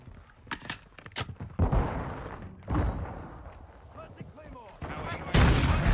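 Shotgun blasts in Call of Duty Modern Warfare 2, several loud booming shots spaced a second or two apart amid other game gunfire, with a person talking over parts of it.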